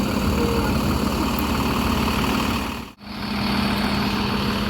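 A Hino 1623 front-engine bus with a Discovery SR3 body idles at a bus terminal in West Sumatra, a constant, close diesel rumble with an even drone that briefly dips before settling back.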